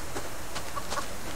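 Chicken clucking in the survival game Subsistence, a few short soft clucks spaced apart over faint ambient background, no talking.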